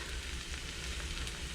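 Chopped ginger and onions frying in a hot wok, a dense, steady close sizzle with faint movement, brief and without talk.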